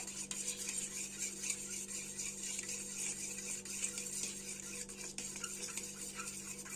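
Cauliflower egg fry with garam masala is stirred in a pan, giving continuous scraping and clinking of a spoon against the metal under a low, steady sizzle and hum. Nobody speaks.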